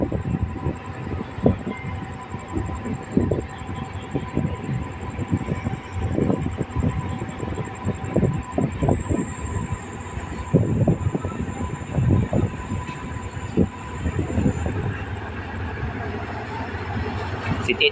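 An ordinary-service diesel railcar train, number 408 on the Chiang Mai–Nakhon Sawan run, pulls into Wang Krang station in Thailand, its engine rumbling and rails clattering steadily, with a high whine overhead and a horn-like tone throughout.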